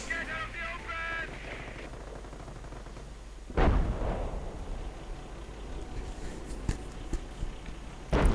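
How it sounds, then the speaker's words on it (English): Hummel self-propelled artillery firing in a real-time strategy war game: a single loud boom about midway, then a long rumbling decay under battlefield ambience with scattered small-arms pops and a few other distant reports. "Hummel firing."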